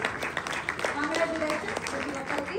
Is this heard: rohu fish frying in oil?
no